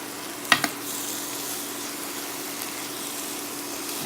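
Spinach, onions, garlic and half a lemon fry in a pan for a keto crustless quiche, giving a steady soft sizzle after a couple of sharp clunks as the lemon goes in, with no talking.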